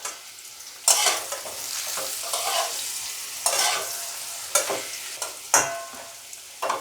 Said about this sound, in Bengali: এই জন্য খুব অল্প তেলে ভাজা, এই জন্য এইভাবে ঘন ঘন নাড়িয়ে এটাকে ভাজতে হবে।